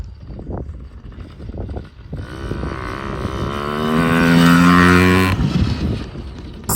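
A small 50cc dirt bike engine revs up loudly as the bike rides around a corner nearby, its pitch climbing to a sustained high buzz before dropping back off, with no talking.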